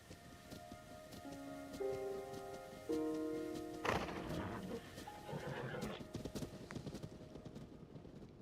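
Hooves of a horse clip-clop across the ground in a Zelda video game, a steady rhythmic trot with rain pattering and game music in the background.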